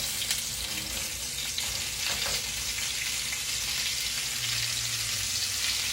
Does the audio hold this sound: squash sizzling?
yes